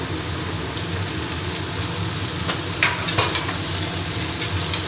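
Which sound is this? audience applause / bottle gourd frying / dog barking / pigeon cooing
bottle gourd frying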